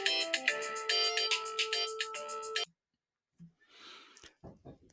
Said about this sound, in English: Sorry about the interruption with the phone there